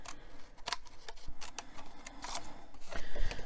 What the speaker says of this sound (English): I can come back from the back side and cut off this excess